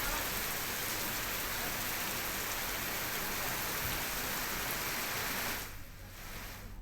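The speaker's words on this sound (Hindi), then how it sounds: "तेज़ बारिश के साथ यहाँ ओले भी गिर रहे हैं" Dense, steady downpour of heavy pre-monsoon rain with hail in Chhattisgarh, India, roars continuously at close range, then eases slightly near the end; individual impacts blur into a wash of noise.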